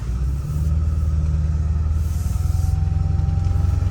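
A deep, steady rumble from a 2002 Ford Excursion's 7.3L Powerstroke diesel engine drones inside the moving vehicle, with a low throbbing hum and faint road noise, no talking.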